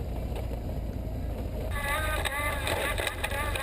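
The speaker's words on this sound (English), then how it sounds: "Hear the gear whine from the final drive." A BMW 1150GS motorcycle riding an off-road trail, its final drive giving a high, wavering gear whine that rises over the engine and wind rumble during the second half.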